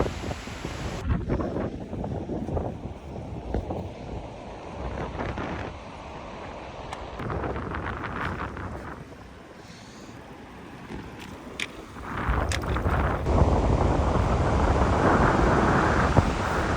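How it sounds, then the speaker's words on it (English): Ocean surf rushes and breaks along a remote Tasmanian south coast beach, swelling louder near the end, mixed with strong wind noise on the microphone. "I can hear the waves."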